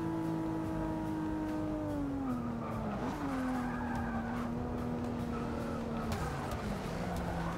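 A BMW M235i in Forza Motorsport 6 brakes hard, tires squealing and skidding in a long sustained whine over a steady engine drone, loud and continuous with pitch sliding as the car slows.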